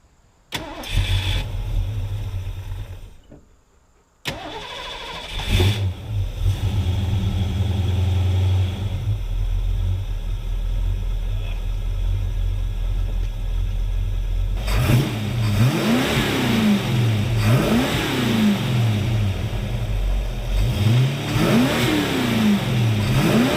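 A 5.0 V8 in a Ford LTD Fox Body cranks and fires up, settling into a loud, close idle before a series of rising and falling revs blip repeatedly toward the end.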